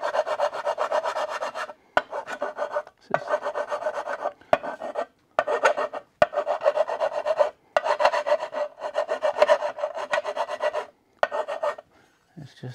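A hand file rasps a burr off a 2016 Yamaha TW200's skid plate in steady, close back-and-forth strokes, separated by short pauses, loud and alone without talk.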